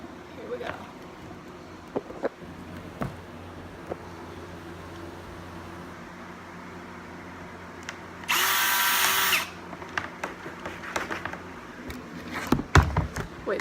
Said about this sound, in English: it's a 1/4-inch drill bit, and drilling holes in this